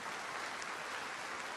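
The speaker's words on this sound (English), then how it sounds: "Let's please give our panelists a big round of applause for their time." Audience at a BlizzCon panel applauding the panelists, a dense steady wash of many hands clapping throughout, fairly distant and even.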